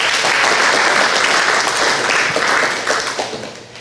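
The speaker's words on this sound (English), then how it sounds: "Let's give them all a round of applause as well." An audience at a village community meeting gives a full round of applause for the mayor and councillors. The clapping is loud and dense, then thins out over the last second.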